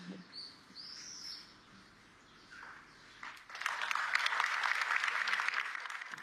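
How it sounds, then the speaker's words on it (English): Swallows and crows call around a hilltop ruin in Grottole, southern Italy, with thin chirps early on and then a dense, bright chorus of twittering that swells and holds steady over the final seconds, with no talk. "The swallows and the crows give the place quite a mystical feeling, which I like."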